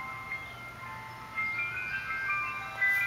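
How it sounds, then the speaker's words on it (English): Faint ice cream truck music carries from afar, a high tinkling melody rising and falling over a constant low outdoor hum. "Do you hear the ice cream truck?"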